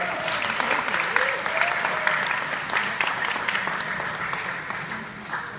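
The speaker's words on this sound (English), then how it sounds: "Give him a round of applause." Audience applause at a hospital Christmas show, a brisk burst of many hands clapping with a few sharper claps standing out and some voices under it, tapering slightly at the end.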